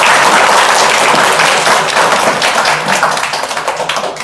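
A Toastmasters club meeting audience applauds in a loud, dense burst of clapping that holds steady, then thins slightly toward the end.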